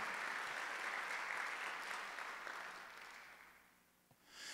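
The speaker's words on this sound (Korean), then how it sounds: "박수 한번 더 해주세요" Church congregation applauding during a Sunday worship service, a dense sustained wash of clapping that gradually thins and fades toward the end.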